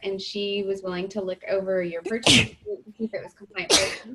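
One sharp sneeze cuts into a woman's steady speech, followed by a second, weaker sneeze-like burst. It comes from a recorded online meeting and is loud and close against the talking.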